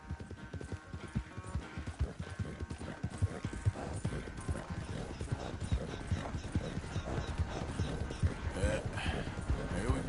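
Horse hooves clip-clopping at a steady walking rhythm in a video game, close and continuous, with a faint mechanical hum underneath.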